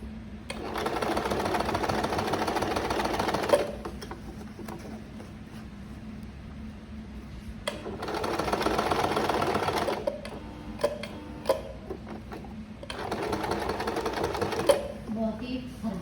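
A sewing machine stitches a blouse neckline in three sustained bursts of close mechanical whirring, broken by short pauses and light handling noises, with someone talking over parts of it.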